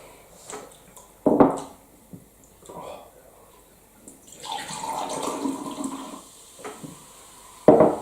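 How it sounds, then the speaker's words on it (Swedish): Cola pours and splashes into a glass for a few seconds, with soft background movement and brief clinks before and after. "Då häller jag upp nästa"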